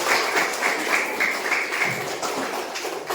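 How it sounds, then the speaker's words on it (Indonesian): A classroom of students clapping together, a steady, fairly loud patter of many hands that carries on throughout with no speech over it. "Oke, tepuk tangan untuk kita semua."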